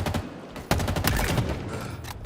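Rapid gunfire rattles continuously in bursts, a dense volley of shots from a game battle, fairly close and steady.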